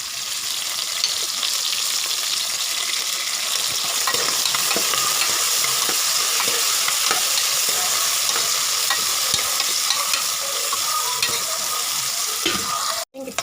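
Curry leaves sautéing in a pan for sambar rice, a loud continuous close sizzle with constant scraping stirs throughout, ending in a sudden clunk.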